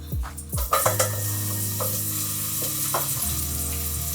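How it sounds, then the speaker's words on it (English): Shrimp and squid fry in very hot oil with a loud, steady sizzle, and the pan is stirred in a few quick scrapes near the start. "So we fry this till it's a bit brown"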